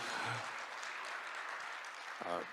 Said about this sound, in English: let's give some applause to all our startups